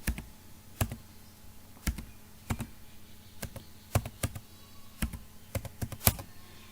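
Fingers tap out a phone number on a computer keyboard in short irregular bursts of distinct clicks, close and fairly quiet, with no one speaking.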